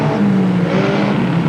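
Race car engine roaring at Creek County Speedway, Oklahoma, in a 1991 stock car race, a loud steady drone with a whining tone and no talking over it.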